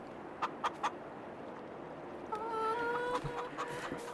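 Chickens in a farm game on Mars give a few short clucks, followed by a sustained chirping fowl call over a quiet ambient background; they are moderately near and there is no talking.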